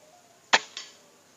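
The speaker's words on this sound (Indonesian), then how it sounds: "Oke, ini tembakan yang terakhir, rekan-rekan sekalian." A single air rifle shot fired through a Neo Gorilla silencer: one sharp, suppressed crack followed by a softer second report a quarter second later, then a brief decay into quiet.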